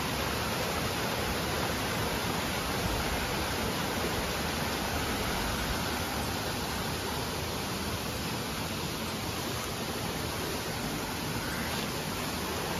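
A rushing waterfall produces a steady, broad roar of falling water that stays constant and unbroken throughout, close and enveloping, with no voices over it.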